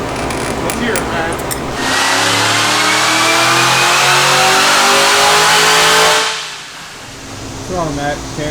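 A 2017 Camaro's engine fitted with a cold air intake revs hard and loud, climbing and holding a high roar for several seconds before dropping back toward idle, then blipping again, heard up close.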